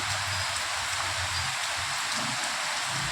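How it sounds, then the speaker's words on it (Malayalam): Heavy monsoon rain pours down in Thrissur district, Kerala, making a steady, dense hiss that stays even throughout with a faint low rumble beneath and no voices. "മഴയോട് മഴ തൃശ്ശൂർ ജില്ലയിൽ."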